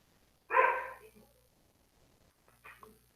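A dog indoors at home gives one fairly loud, close bark, followed by a quieter, shorter second yelp after a pause, with near silence around them.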